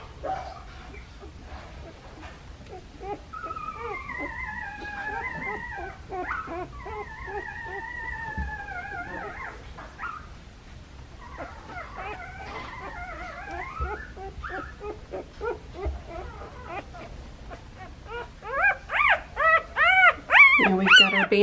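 A puppy whimpers and whines through repeated high, wavering cries during tail and dewclaw removal, growing into louder, rapid yelps toward the end, with quiet handling noise beneath.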